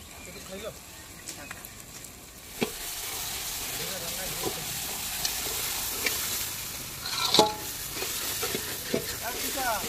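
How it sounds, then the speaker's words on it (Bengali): Green beans sizzling and being stirred in a hot pan of oil with turmeric and chili powder, a steady loud frying hiss with spatula scrapes, while someone talks over it. "বরবটি ভাজা হয়ে গেছে, এবারে তুলে দিন।"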